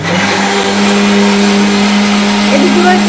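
A new electric blender grinds ginger and garlic with a loud, steady motor whine and roar. The sound runs without a break from start to finish, up close.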